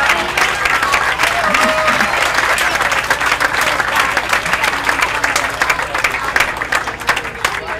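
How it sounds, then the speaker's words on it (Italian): Steady, dense audience applause fills a prize-giving ceremony for the 34th Coppa Lord Byron swimming race, loud and continuous throughout with a few voices faintly mixed into the clapping. "un applauso di cuore lo farei"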